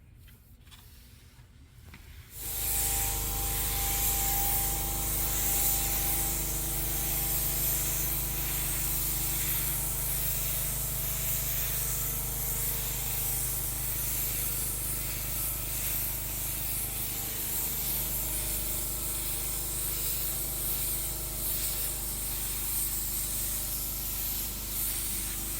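A spray gun lays a pearl coat over the bumper of a Tesla Model X finished in three-stage pearl white, a steady, loud, unbroken hiss running alone for over twenty seconds after a brief quiet start.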